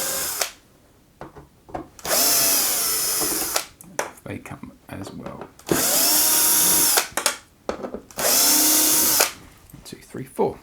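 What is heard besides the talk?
power drill removing T8 heatsink screws from Xbox One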